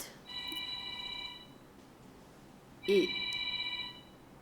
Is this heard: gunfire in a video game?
no